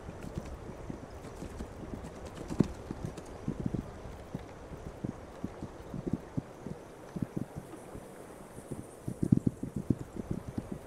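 Galloping hoofbeats as a horse is ridden across open country in the western game This Land Is My Land, a steady rhythmic clip-clop over soft wind, moderately close, with no talk.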